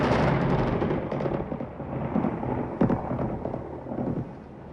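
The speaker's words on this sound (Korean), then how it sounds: "번개의 불화살로 변했어요. 아니나 다를까 불화살이 언덕 위 링케나무를 향해" A lightning strike brings heavy, rumbling thunder that crackles and rolls for several seconds, with a sharp crack near the middle before it fades. It is deep and loud, with no talking.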